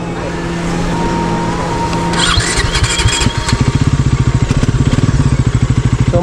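A Bajaj Pulsar NS400Z motorcycle starts close by, the starter whirring briefly before the engine catches and settles into a loud, steady, rapidly pulsing idle.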